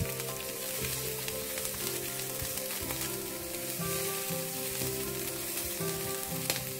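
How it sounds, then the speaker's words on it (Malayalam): Onions sautéing in a pan for prawn fried rice, a close, dense, continuous sizzle with occasional faint scrapes from stirring. "സവാള ഒന്ന് സോഫ്റ്റ് ആവണ വരെ ഒരു ഒന്ന് രണ്ട് മിനിറ്റ് അതും ഒന്ന് ഇളക്കി കൊടുക്കാം"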